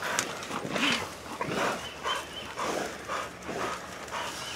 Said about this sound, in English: They were just barking, fighting over it.